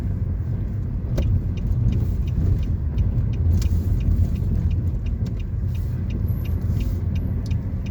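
Bus approaching in road traffic heard from inside a car during a driving lesson; steady low engine and road rumble throughout with faint ticking, no talk.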